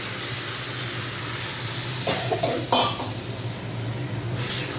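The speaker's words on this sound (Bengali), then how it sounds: "এবারে আমি হালকা জল দিয়ে দেব" Fish curry spices sizzle in a pan, with ginger and cumin paste frying. Water poured in brings a few louder hissing bursts over the steady frying noise, and nobody talks.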